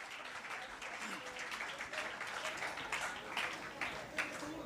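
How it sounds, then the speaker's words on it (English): Audience applause at a national housekeepers' youth convention, a steady wash of clapping filling the room for several seconds with voices mixed in underneath. "Let's give a big round of applause."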